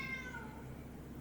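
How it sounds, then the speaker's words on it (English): A pet cat meows in the background of a quiet indoor room, a faint, high, drawn-out call that fades over about a second, with no talking. "As you can hear my cat in the background"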